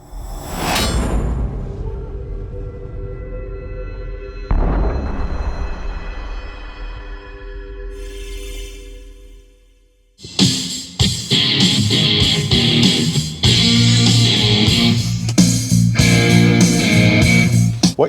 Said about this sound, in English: What you just heard there were the door speakers